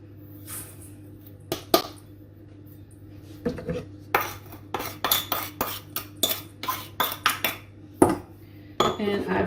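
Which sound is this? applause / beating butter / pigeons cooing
beating butter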